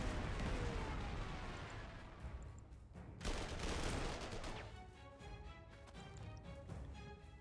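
Bombing strikes pound an encircled enemy unit in the World War II strategy game Panzer Corps 2, a dense, continuous barrage of artillery-like blasts and rattling gunfire with a sharp burst around the middle, loud throughout.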